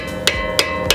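A hammer drives a lug nut extractor socket onto a car's lug nut: three sharp metallic blows, evenly spaced about a third of a second apart, ring out close and loud over a steady background hum.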